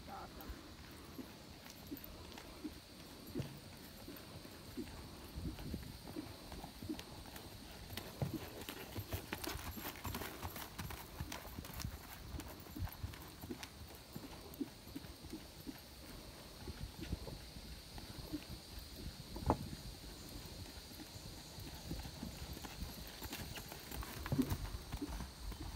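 A horse's hooves thud in a steady cantering rhythm on soft ground, moderately distant, with faint voices and outdoor background throughout.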